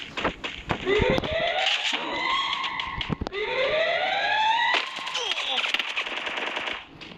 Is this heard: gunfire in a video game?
yes